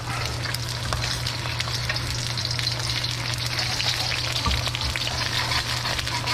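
Pork stir-frying for Thai basil pork in a wok that has lost some seasoning, a dense, loud sizzle with scraping and clinks from a metal spatula over a low steady hum, heard close without talk.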